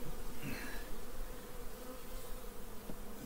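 A dense, steady buzz of many Carniolan honeybees at an open hive fills the air, close and continuous, with no talking.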